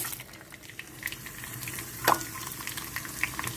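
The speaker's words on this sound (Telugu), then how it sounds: "ఇప్పుడు పోపులు వేసుకుందాం వెల్లుల్లిపాయలు కరివేపాకు జీలకర్ర ఆవాలు" Garlic, curry leaves, cumin and mustard seeds fry in hot oil and ghee for a dal tempering, giving a steady quiet sizzle with a sharp crackle and a few small pops.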